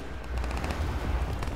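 Gunfire in the Crackdown video game, a dense run of rapid shots rattling steadily across a short burst, moderately loud with no talking over it.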